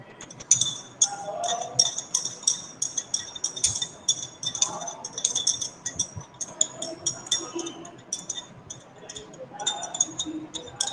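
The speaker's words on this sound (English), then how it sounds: "in this beaker and dissolve it using a glass rod." A glass rod clinks rhythmically against the inside of a glass beaker, a steady series of bright taps and scrapes while stirring, close up.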